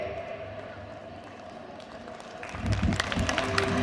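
An audience at a Republic Day flag-unfurling event bursts into clapping after a quiet stretch of murmuring, the applause building loud and dense over the last second and a half.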